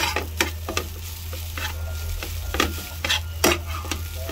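Leftover cooked rice frying and being stirred in the same pan used for pork bistek, with a steady close sizzle broken by repeated scraping strokes of a spatula, no voices.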